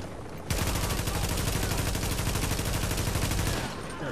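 Sustained automatic gunfire from behind in The Division's Dark Zone, a loud, continuous rapid rattle of shots lasting about three seconds before cutting off.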